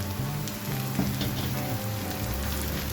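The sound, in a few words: keema minced meat frying with spices in pan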